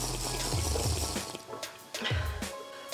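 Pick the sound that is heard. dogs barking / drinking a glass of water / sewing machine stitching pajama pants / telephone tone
drinking a glass of water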